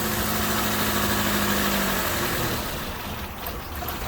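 An 1988-91 Honda Civic EF wagon engine idles after an alternator replacement, a steady close rumble with a broad wash of noise that eases slightly toward the end, with no one speaking.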